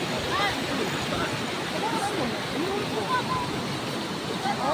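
Water flowing from an underground spring at Tanay: a steady, close rushing and gurgling that runs throughout, with faint voices now and then in the background.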